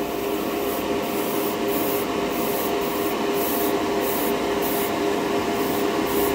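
A Harder & Steenbeck Evolution 2-in-1 airbrush fitted with a 0.4 nozzle sprays Game Air purple paint with the trigger barely pulled, giving a steady close hiss with no talk.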